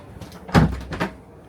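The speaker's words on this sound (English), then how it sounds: "it moves that door across." A sliding shower door in a motorhome is pushed across, giving two close knocks about half a second apart, the first louder, with a soft rumble of movement between them.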